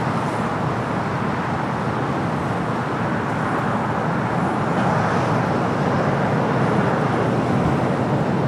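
A Delta jet airliner inbound from Tokyo Haneda lands at LAX on runway 25 left, a steady, broad, continuous roar that swells slightly near the end and carries no talk.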